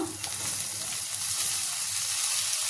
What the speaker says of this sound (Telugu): సన్నగా కట్ చేసుకోండి పాలకూర తొందరగా ఫ్రై అవుతుంది ఇప్పుడు దీన్ని ఫ్రై చేసుకుందాం